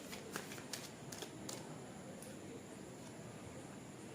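Tarot cards being laid out and handled on a surface, with soft papery slides and light taps spread across a quiet, steady background hiss.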